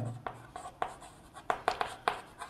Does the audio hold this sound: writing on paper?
yes